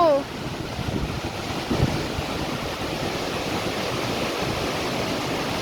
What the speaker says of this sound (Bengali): আমরা অনেকটা কাছে জলের কি শব্দ